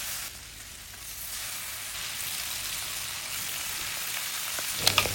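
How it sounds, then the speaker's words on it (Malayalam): Steady, close sizzling of batter-coated mussels frying in hot oil, a continuous crackling hiss with a few sharper pops near the end. "ഓരോ കല്ലുമ്മക്കായും ഈ നേരത്താക്കി വെച്ച മിക്സിയിൽ മുക്കിയിട്ട് ഓയിലിട്ടിട്ട് പൊരിച്ചെടുക്കാം"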